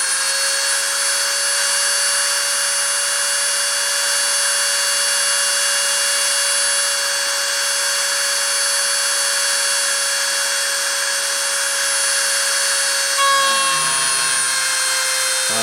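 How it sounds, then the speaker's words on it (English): A deposition machine's motor starts and then runs steadily for the whole stretch, making a loud, continuous mechanical whine with sustained tones that shift slightly near the end, and no one speaks. "I'm going to start the motor and start the deposition"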